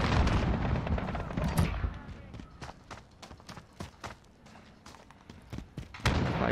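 Gunfire in a Call of Duty Modern Warfare match cracks in irregular bursts of sharp shots, some rapid and clustered, others isolated, over a busier rumbling stretch at the start.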